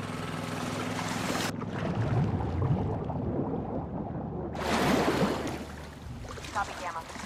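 In the video game The Last of Us Part II, a boat engine runs in Seattle waters with a steady motor drone and water wash, its level dipping briefly mid-way before swelling again alongside surf and wind.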